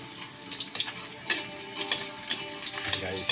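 Onion and garlic sizzle in a hot pan at home, a steady frying hiss broken by occasional louder clinks and stirring scrapes, close by with no talk.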